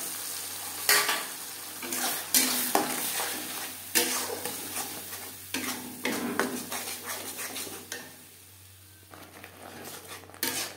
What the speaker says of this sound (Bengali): ডিম ভেজে নেওয়া তেলে দিয়ে দেব মশলার পেস্ট।